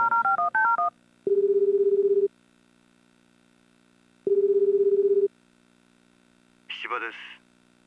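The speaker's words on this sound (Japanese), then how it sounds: "芝くんに電話しよう。" Telephone keypad tones in the Tokimeki Memorial Girl's Side 2nd Kiss video game: a quick run of dialing beeps, then two long ringback tones separated by silence, followed by a short electronic chime.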